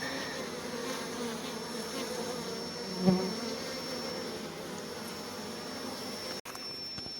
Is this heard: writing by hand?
no